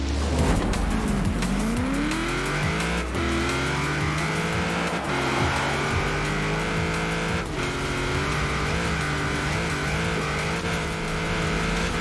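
A Ford Transit van is driven hard in the racing game Forza Horizon 4, its engine revving loudly and continuously with rising and falling pitch through gear changes, and tires squealing during the drive.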